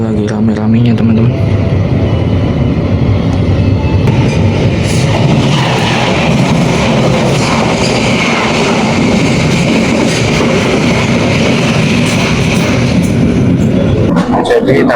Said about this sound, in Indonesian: Solo telah diberangkatkan kembali dari stasiun Kroya.